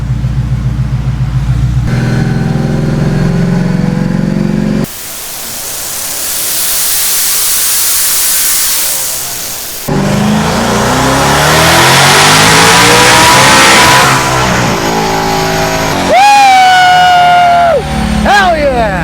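Hellion twin-turbo Ford Mustang S650 on 93 octane making a fifth-gear pull at about 10 PSI, a loud engine roar rising through the rev range with turbo whine and a sharp drop as the throttle lifts near the end.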